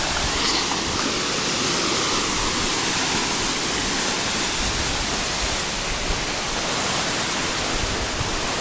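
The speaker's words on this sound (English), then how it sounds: "a waterfall up ahead on the right" A loud, steady roar of a waterfall beside a trail pours on without a break, a dense, even rumble close by with no voices.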